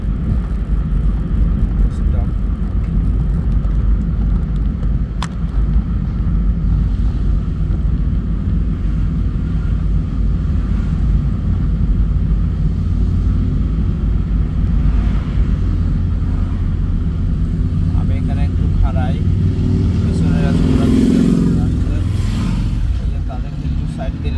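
A car driven slowly through Woodstock, Vermont, with a steady low engine and road rumble filling the cabin throughout, voices talking over it and a brief louder swell near the end.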